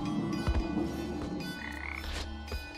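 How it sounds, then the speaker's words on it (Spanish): Frogs croaking in the video game Papo & Yo, a few deep, throaty croaks over a steady ambient game background, close and fairly quiet. "libera ranas"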